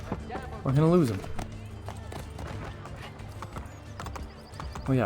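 A horse ridden through the city in Assassin's Creed Brotherhood gives a loud whinny, then its hooves clip-clop in a steady rhythm, with someone talking over the game sound.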